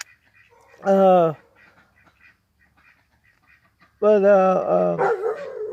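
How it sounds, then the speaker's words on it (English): A pet dog gives a short bark, then after a pause a longer drawn-out bark or yelp, fairly loud and close, while someone speaks in between. "my dog's barking"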